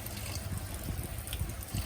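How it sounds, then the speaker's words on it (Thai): Water runs steadily through an aquarium surface overflow pipe, a continuous close gurgling trickle with low bubbling and no voices. "น้ำไหลเองนะครับ"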